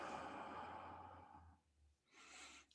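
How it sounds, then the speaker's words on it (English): A slow, soft exhale flows out for about a second and a half during calm guided breathing, close and gentle, followed by a brief quiet pause and another breathy rush. "Breathing in, and breathing out."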